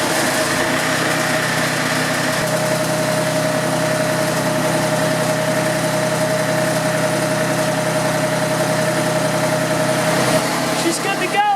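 John Deere loader engine idling after a hydraulic cylinder rebuild: a steady, close mechanical drone that holds throughout, with a few faint rattles near the end.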